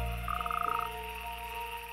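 Frogs at a breeding pond croak in a rapid pulsing trill of about a dozen beats, fairly distant and moderate in level, over a steady background hum.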